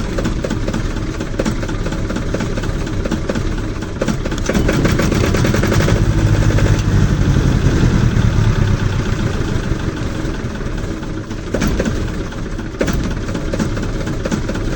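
A 10 kVA diesel generator engine running close by with a loud, steady rattling chug, the knocking growing heavier for a few seconds in the middle before settling back.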